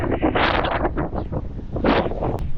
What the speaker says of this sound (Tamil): செம்ம காற்றடிக்குதுங்க.